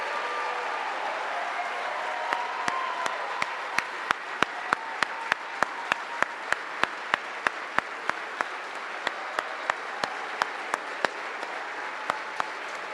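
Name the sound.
audience applause for newly commissioned officers at graduation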